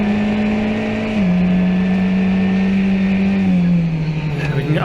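Formula 1600 race car engine screaming at high, steady revs during a 2018 club race. The drone dips in pitch twice as the car shifts or lifts, loud and close, as if heard from onboard.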